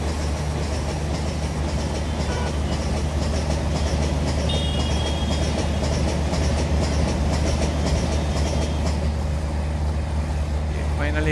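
A parcel train rumbles past steadily in an Indian train simulator game, with continuous rail clatter and a low engine drone throughout, loud and close, with faint tonal squeals partway.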